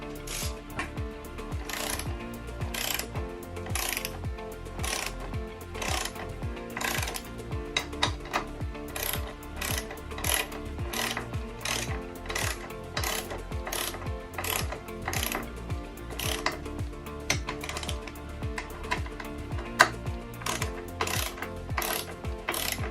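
A torque wrench ratchets steadily while bash guard bolts are tightened on a KTM EXC motorcycle, close and loud, with rhythmic clicking strokes repeating for over twenty seconds and no talk.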